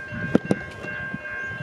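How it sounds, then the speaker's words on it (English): The Great Southern train hauled by NR-class locomotives passes at Belfast Hill, giving a brief rumble with a couple of sharp clanks over a faint steady tone. "comes the Great Southern passing through Belfast Hill."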